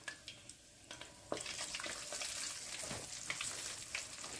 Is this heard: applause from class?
no